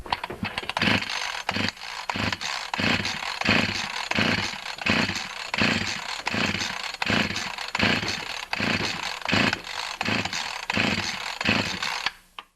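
Husqvarna 346xp chainsaw with a scored piston, clamped in a vise for a compression test, with its starter cord pulled repeatedly at full throttle: a steady run of even, rhythmic rasping strokes, close and loud, and no engine catching.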